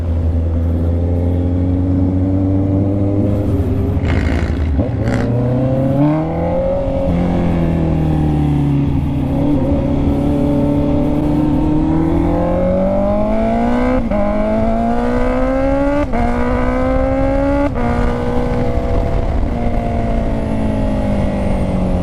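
A Honda CB650R motorcycle engine revs and accelerates through rising gear pitches, loud and close, with a steady rumbling drone and a few shifts in tone.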